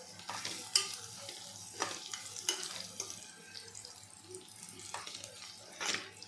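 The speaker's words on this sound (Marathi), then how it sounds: "मसाला चांगलापैकी परतून झालेला आहे।" Ground masala with garam masala sautéing in a pan for chicken yakhni pulao gives a soft, steady sizzle broken by scraping stirs of a spoon at irregular intervals, close and fairly quiet with no talking.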